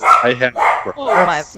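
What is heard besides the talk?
dog barking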